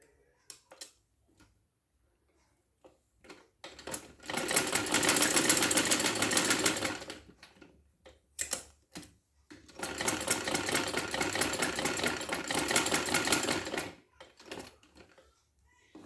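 Sewing machine stitching the new neckline of a garment, running in two long continuous bursts of several seconds each, with short pauses and scattered clicks of handling between them.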